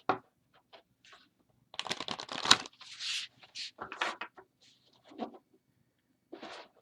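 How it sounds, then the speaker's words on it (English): Black Angel playing cards riffle in a side shuffle, bursts of quick papery flutters and soft taps separated by pauses, close and clear with no talking. "they are flexible enough to do a side shuffle"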